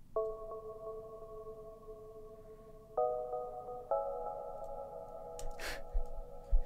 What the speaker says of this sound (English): This is a very basic synth sound that you can find in most synths.